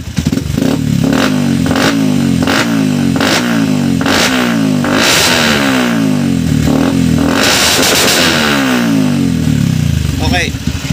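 A motorcycle engine undergoing ECU tuning revs repeatedly up and down, loud and close, with a rough clattering idle between the rising pulls and a voice speaking over it.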